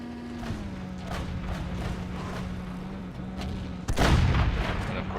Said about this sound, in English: And now he's going to take a shot at me and he's going to miss.